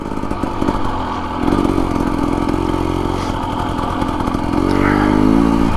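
A Husqvarna TE250 or KLX dirt bike engine drones loudly and steadily in second gear on a desert canyon trail in Arizona, rising in pitch as it accelerates near the end.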